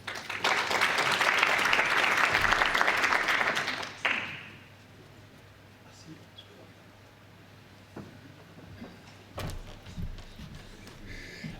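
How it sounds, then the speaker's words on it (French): Dense applause fills a French agrivoltaics conference hall for about four seconds as a speaker is called to the podium, then drops to a quiet room with occasional thumps and rustles. "On peut l'applaudir."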